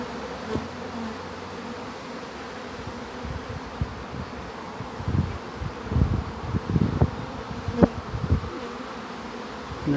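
A swarm of honeybees hums in a steady, close buzz as a beekeeper handles and scoops them by hand, with soft thumps and rustling bursts over the buzzing.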